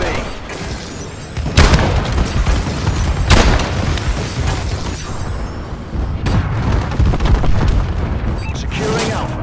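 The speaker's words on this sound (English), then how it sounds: "Enemy bombing run incoming." Heavy explosions from an enemy bombing run in Call of Duty: Advanced Warfare, Domination mode on the Terrace map: several loud booms land a second or two apart over constant gunfire and battle din, with voices mixed in.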